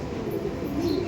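Pigeons in a loft make a brief, low, rolling coo close by, over a faint, steady background rumble.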